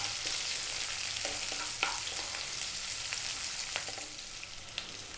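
Chopped onion fries in a pan over above-medium heat, a quiet, continuous sizzle with occasional light taps and scrapes from stirring, alone without speech.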